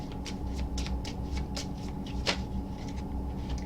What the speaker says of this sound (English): it just flipped as I was shuffling